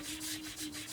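Card being sanded by hand before stencilling, a soft rhythmic scratchy rubbing of several quick back-and-forth strokes, close and quiet.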